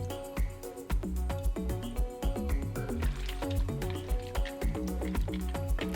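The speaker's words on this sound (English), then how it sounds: "you're just gonna add in a 1/2 cup of heavy cream" Heavy cream pours into a pot of pasta broth with soft wet glugging and dripping, close and fairly quiet, in an irregular series of splashes.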